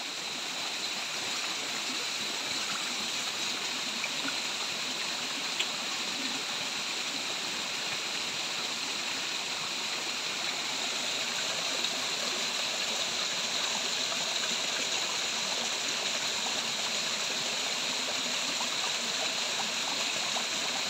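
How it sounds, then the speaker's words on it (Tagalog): Steady rushing of a waterfall and flowing stream at a campsite farm lot in General Nakar, Quezon, a continuous broadband roar that stays even throughout, with no voices. "Napakaganda pong pakinggan ang tunog ng tubig."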